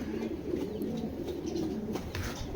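Pigeons kept as racers coo softly and steadily at close range, a low repeated murmur with faint rustling around it.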